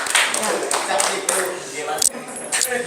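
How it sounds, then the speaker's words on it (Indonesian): Classroom applause for students who finished a biology lesson activity, a crowd of hands clapping steadily and fairly close throughout, with a brief dip and a few voices mixed in. "Tepuk tangan untuk yang telah menyelesaikan sampai akhir."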